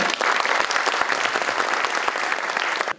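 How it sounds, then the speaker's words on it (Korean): Audience applause at a Korean legislative forum on revising the Local Autonomy Act, a steady, dense clapping from a crowd in a hall, loud and continuous for about three seconds before cutting off. "모두 열렬한 박수 부탁드립니다."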